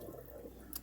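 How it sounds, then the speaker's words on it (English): Water draining out of a kitchen sink after peeling sweet potatoes, a quiet continuous gurgling and trickling with a faint splash near the end. "I'm gonna let this water out of the sink"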